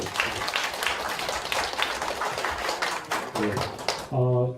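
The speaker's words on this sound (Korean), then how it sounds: "박수 보내주세요." Applause from an audience at an academic conference on Korean ethnic religions, a dense patter of clapping under a speaking voice that ends in a short sustained tone.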